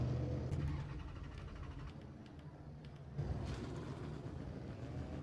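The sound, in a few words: Milano race car engine in video game Automobilista 2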